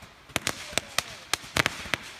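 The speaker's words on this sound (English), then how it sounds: "This is, no, this is fireworks." Fireworks go off outdoors in a summer backyard, with about ten sharp pops and crackles in quick irregular succession, moderately distant and fairly quiet.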